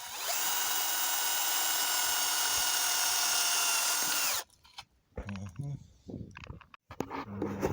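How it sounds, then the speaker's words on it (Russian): A power drill whines steadily for about four seconds drilling pilot holes in a thin wooden bar, then stops, followed by someone speaking nearby. "чтобы тонкий брусок не треснул, его перед тем, как шуруп в него вворачивать, необходимо засверлить"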